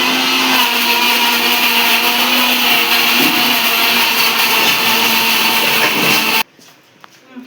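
A kitchen mixer grinder whirs loudly and steadily, grinding tomato masala for a fish curry, then cuts off abruptly near the end, leaving near quiet.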